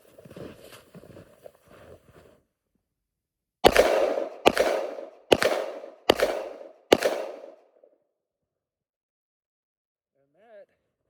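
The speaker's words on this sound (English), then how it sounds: "I'm just gonna go ahead and take 5 shots." A semi-automatic pistol fires five quick, sharp shots in the backwoods, spaced under a second apart and loud and close, after a few soft sounds at the start.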